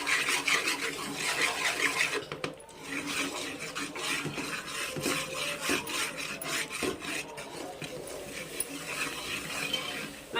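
Mysore pak mixture with oil being stirred in a pan, with a continuous close scraping and rasping of the spoon against the pan and a brief pause partway through.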